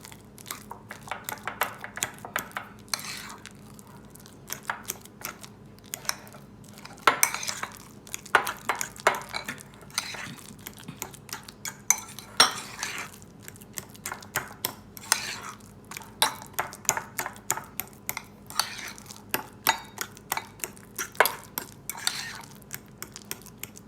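Bananas mashed in a bowl for banana bread make repeated clinks and scrapes of a utensil against the bowl, an irregular steady rhythm of close taps.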